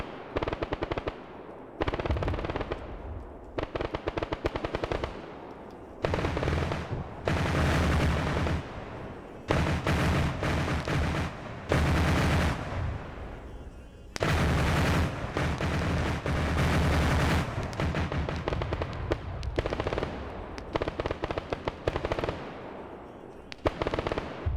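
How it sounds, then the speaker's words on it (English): Anti-aircraft guns firing in a military video game, long loud bursts of rapid automatic fire with short gaps between them, continuous and close, with no talking. "I hear the AAA guns already firing"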